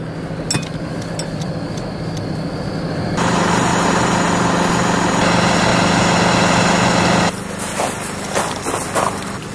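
A concrete delivery truck's diesel engine rumbles steadily as it arrives at a construction site, growing louder and holding a droning roar in the middle before easing back down.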